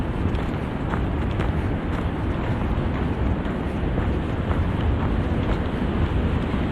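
Wind buffets a microphone outdoors on a November hike at the UWGB Cofrin Memorial Arboretum, giving a loud, constant low rumble and roar throughout with no talking.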